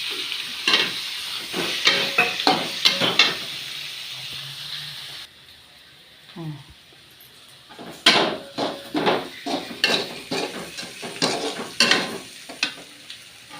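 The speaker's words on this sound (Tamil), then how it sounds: "பச்சை மிளகா வெந்துட்டு வெங்காயத்தை போடணும்." Onion fries in a pan after green chillies for a dried-fish dish. A loud, close sizzle comes with rhythmic stirring scrapes and clanks, drops to a softer hiss midway, then returns to vigorous stirring.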